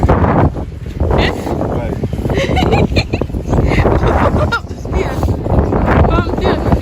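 Gusty outdoor wind buffets the microphone on a walk in the UK on Christmas Eve, a steady loud roar with surges, while people talk over it and a few honk-like calls sound in the background.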